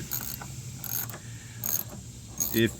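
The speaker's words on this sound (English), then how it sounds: "We'll go ahead and just remove this bolt right here." A ratchet loosens a bolt on a Ford Edge transmission mount, with several short bursts of quick mechanical clicking spaced across the moment, close by and moderately loud.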